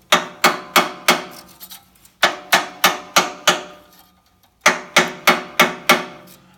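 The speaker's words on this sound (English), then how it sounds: "You can then insert your shim in between the blades there, and with a little gentle tap, you just see that moving slightly." A shim is tapped between the blades of a Skarper C90 Pro with sharp, evenly spaced knocks in three quick bursts of four to five taps each, close and loud with short pauses between.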